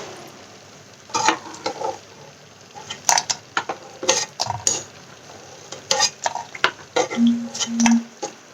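Paneer malai kofta balls frying in a pan, stirred continuously, with scraping clinks of a spoon against the pan over a steady sizzle, in close irregular bursts.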